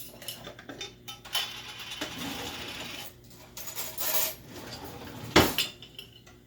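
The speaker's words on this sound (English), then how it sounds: "So, start adding in the dry ingredients." Dry spices being spooned and tapped into a homemade spicy peach barbecue sauce in a kitchen, with scattered metallic clinks, scrapes and sharp taps of a spoon against a bowl and measuring spoon, irregular and close.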